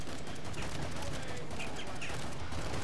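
Grenades burst in rapid succession during a snowy fort defense in Killing Floor 2, dense continuous gunfire and explosions filling the whole stretch at loud, close range.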